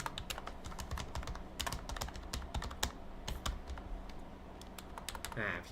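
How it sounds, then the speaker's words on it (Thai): Clicky key presses on an OKER K510 pastel wireless Bluetooth keyboard, typed in quick irregular bursts close to the microphone, with a faint background hum and no talking. "เนี่ยเราก็สามารถพิมพ์ได้แล้วนะครับ"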